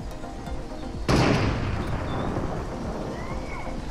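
A sudden loud blast in Fortnite, a deep booming shot that breaks in after a quieter stretch and leaves a long rumbling tail over low background noise.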